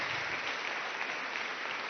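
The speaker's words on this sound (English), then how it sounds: "Let's give him a nice big round of applause." Sustained audience applause from a seated crowd at a live talk, a dense, even wash of many hands clapping at steady loudness throughout, with no speech over it.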